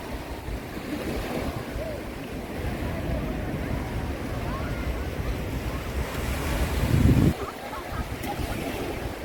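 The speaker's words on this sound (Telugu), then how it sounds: "ఇది గోకర్ణలో ఇది మెయిన్ బీచ్ ఇది." Surf rolls in steadily on Gokarna's main beach, a continuous wash of waves with wind buffeting the microphone, swelling into a louder crash near the end before settling back.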